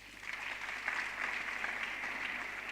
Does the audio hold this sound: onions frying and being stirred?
no